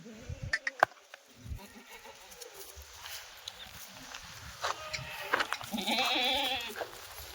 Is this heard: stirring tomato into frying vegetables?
no